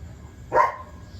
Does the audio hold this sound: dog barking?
yes